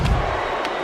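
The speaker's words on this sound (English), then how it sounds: "this crowd is going wild for Triple H here tonight" Arena crowd in the WWE 2K16 wrestling game roars and cheers during a Money in the Bank pay-per-view ladder match, a brief, loud, dense swell of massed voices.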